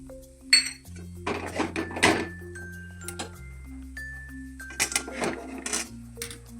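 Gram flour sautéed in a pan for a spicy pea kachori filling, with a spoon clinking and scraping in a few short bursts over a steady tonal background hum.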